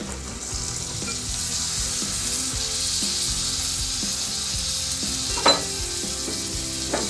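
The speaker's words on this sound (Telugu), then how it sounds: "ఆయిల్లో ఆనియన్స్ ఫ్రై అయినాయి కదండి ఇప్పుడు ఇందులో మనం నానబెట్టి పెట్టుకున్నాను కదా అరగంట ముందు ఇప్పుడు శనగపప్పు వేసుకుంటున్నా" Soaked chana dal goes into onions already frying in oil, giving a steady close sizzle with scraping stir strokes and clicks throughout, plus one brief sharper clatter near the end.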